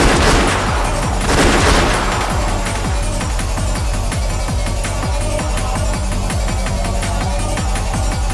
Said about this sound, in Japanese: 応戦しろ、各自自由発砲。